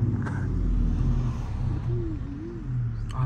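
A large truck drives past at night on a city street, heard from inside a moving car as a steady low engine rumble with a brief rising-and-falling whine, loud and continuous throughout.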